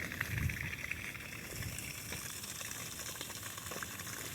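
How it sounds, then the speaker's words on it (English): Running water nearby, a continuous rushing, gurgling wash with small splashy bursts, fairly soft and steady from start to finish. "Ah, there's the water noise."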